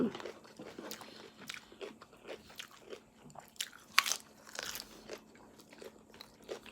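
Fresh chicory leaves bitten and chewed up close, a series of sharp crisp crunches with one loud snap, over a faint background hum.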